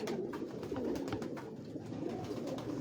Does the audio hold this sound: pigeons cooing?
yes